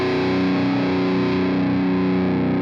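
Electric guitar played through the lead amp of the Neural DSP Archetype plugin, a saturated, distorted tone sustaining steadily with dense harmonics, loud and alone.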